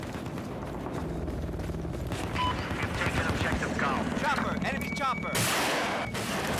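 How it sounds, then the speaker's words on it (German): Gunfire and heavy weapon fire from the video game Battlefield 4, a dense, continuous barrage of close and distant shots with a louder burst near the end, under steady chatter from players. "Oh, er hat geschossen."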